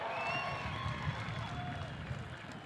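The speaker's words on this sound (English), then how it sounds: "how about one more big round of applause for Maddie Frazier?" Crowd at a dirt-track speedway opening ceremony applauding and cheering, a steady, fairly distant roar of clapping and voices across the grandstand with no clear individual claps.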